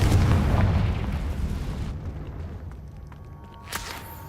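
A blasting spell explodes in Hogwarts Legacy with a loud, deep boom that rolls on and slowly fades over a few seconds, followed by a faint crackle of debris.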